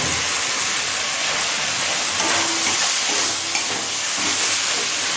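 Ginger and garlic paste frying with spices in a pan for chicken soybean ghugni makes a loud, continuous sizzle and hiss that holds steady throughout, with no voices.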